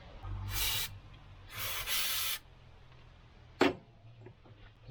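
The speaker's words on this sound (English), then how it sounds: "Just basically spray my whole engine bay with contact cleaner." Two long bursts of contact cleaner aerosol hiss in succession over a Volvo 240 engine bay, followed by a sharp click or knock, with quiet background between.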